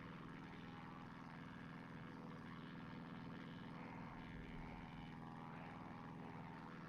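A Christen Eagle II propeller plane flying in the DCS flight simulator over Nevada gives a steady, even engine drone with a rough propeller buzz, constant and fairly quiet, with no voices.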